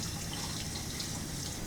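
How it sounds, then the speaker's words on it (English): Water running from a tap while hands are washed with soap, a steady broadband splash and trickle that stays even and fairly quiet throughout, with no voices. "Wash your hands using soap and water for 1 minute."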